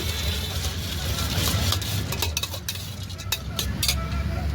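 Ingredients for Chinese bhel with gobi and Schezwan chutney being stirred and tossed in a pan or bowl at a veg Chinese food stall, with a steady clatter of spoon and utensils over constant background kitchen noise.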